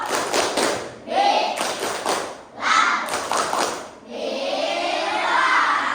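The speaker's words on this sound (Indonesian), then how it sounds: "Tepuk Bilal." Children in a Year 5 maths classroom clap in rhythmic bursts for a classmate, loud and close, with short pauses between patterned rounds and a longer sustained stretch at the end.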